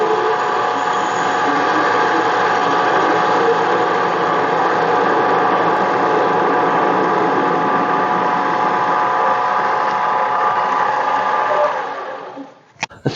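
A metal lathe facing a workpiece in a hobby machining shop gives a steady, loud machine drone with a constant tonal hum, running without break before stopping abruptly near the end.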